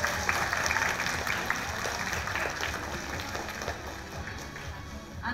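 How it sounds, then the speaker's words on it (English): An audience at a school talent show claps for the parents, a dense, steady patter of many hands filling the room and slowly tapering off. "So a big round of applause for all the parents who've been supporting"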